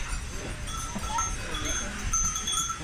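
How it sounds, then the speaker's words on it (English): Goats bleat and bells clank around a goat village in the French Alps at Les Lindarets, with nearby voices chatting over the animals. "All this everywhere is just literally goats."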